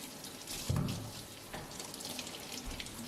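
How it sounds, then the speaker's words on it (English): Warm tap water runs steadily from a faucet over vegetables being washed in a sink, a soft continuous splashing with a few slightly louder splashes, heard quietly and alone. "Wash vegetables with warm water"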